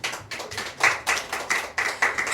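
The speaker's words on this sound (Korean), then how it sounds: "박수 한번 쳐주세요." A small church congregation claps in a brief rhythmic burst, about ten distinct hand claps in steady succession, close and moderately loud with no talking over them.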